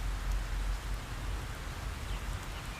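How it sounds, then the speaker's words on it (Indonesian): Steady rain falls outdoors, a dense, even hiss of drops on surfaces that continues without a break and with no voices. "Masuklah, di sini hujan."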